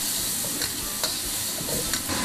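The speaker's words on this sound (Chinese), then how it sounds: "把蘑菇炒软" Button mushrooms stir-fried over low heat in oil with garlic and ginger, giving a steady close sizzle with a few soft spatula scrapes and stirs throughout.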